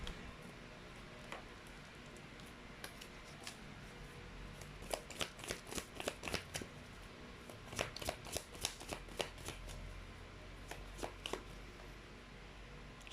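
Tarot cards shuffled by hand, soft riffling and slapping in quick bunches with short pauses between them, close but quiet over a faint room hum.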